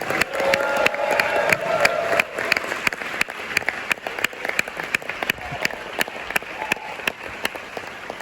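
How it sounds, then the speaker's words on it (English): Sustained applause and cheering from a film reunion audience, many hands clapping steadily with a few shouts rising through, moderately loud and continuous across the whole stretch. "Let's give a round of applause here for the writer, producer, director, Eli Roth"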